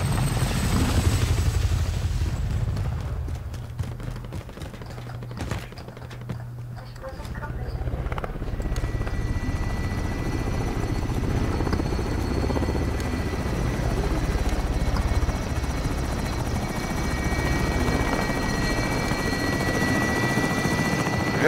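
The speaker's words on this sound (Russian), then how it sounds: "Вертолет уже в пути." A helicopter flies in a video game, its rotor thump droning continuously for the whole stretch and swelling at times, under an intermittent synthetic radio voice.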